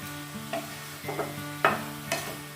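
Bottle gourd with slit green chillies is stirred in a frying pan, with several scraping strokes over a soft sizzle and a steady background hum.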